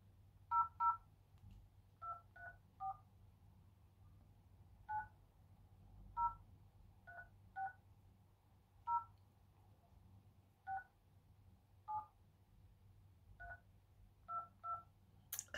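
A telephone keypad beeps out a number, with about fifteen short dual-tone presses in irregular groups, quiet and alone over a low hum.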